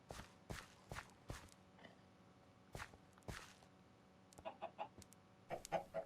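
Chickens cluck in the Minecraft video game, with several short, fairly faint cluck sounds. They are scattered among footstep-like taps and come in clusters toward the end, with no one talking.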